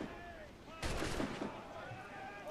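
A gunshot blast from Assassin's Creed IV: Black Flag hits hard and broad, then a dense rumble of follow-up fire lingers under the game's background sound.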